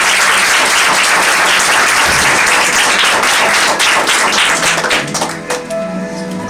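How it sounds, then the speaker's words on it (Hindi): A congregation at a Christian worship gathering claps to welcome someone, loud sustained applause filling the room before thinning out toward the end as a few claps and faint sounds remain. "ताली बजा के वेलकम करें।"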